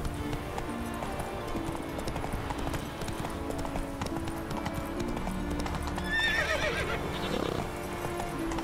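Hoofbeats of the horse Roach gallop steadily in The Witcher 3, with a short neigh rising near the end over a continuous game soundscape.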